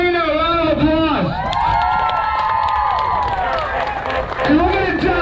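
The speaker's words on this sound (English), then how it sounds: "Can everybody give Junior and Karina a round of applause" An audience at a charity event cheers and claps for two people, a lively mix of applause, whoops and shouting voices that carries throughout.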